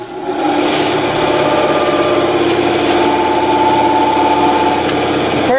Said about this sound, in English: I'm going to turn on the bandsaw now and make some cuts.